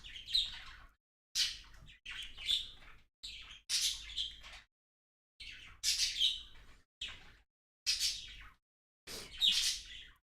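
Pet birds chirp indoors in a series of bright, close tweets and short squawky calls, bursts separated by brief silent gaps.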